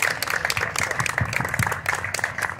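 An audience bursts into steady clapping at a mural dedication honouring the founder of Rosario Central, a dense, even applause lasting a few seconds at moderate distance.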